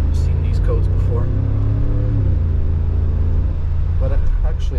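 A 2013 Mercedes G63 AMG's engine drones steadily and loudly from inside the cabin while driving, its pitch rising and easing in a smooth continuous rumble.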